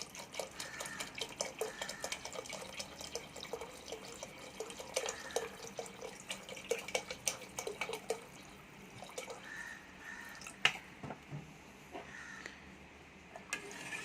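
Water poured into a pot of black chickpeas during cooking gives a soft, irregular run of splashes and drips, quiet and close, with scattered small clatters near the end.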